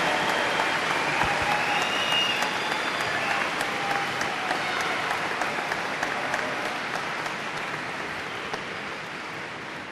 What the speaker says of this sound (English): I think another round of applause is in order